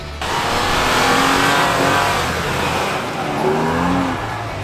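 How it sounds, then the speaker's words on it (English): A Toyota Tacoma pickup pushes through deep snow, with loud, sustained engine revving that rises and falls slightly and no one talking. "And Patrick in the Tacoma."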